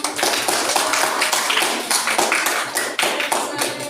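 Classroom applause for a student group, many hands clapping together in a dense, continuous patter that stays loud and steady from start to finish.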